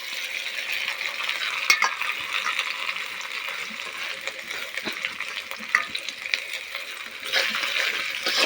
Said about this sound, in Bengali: এইগুলোকে একটু ভাজা ভাজা করে নিব আদাকে আর রসুনকে একটু ভালো করে নেড়ে চেড়ে